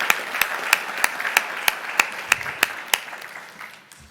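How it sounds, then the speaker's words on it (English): A small group at a school board meeting claps for employees, with regular individual hand claps standing out sharply over a softer patter that fades toward the end. "I want another hand clap for those employees"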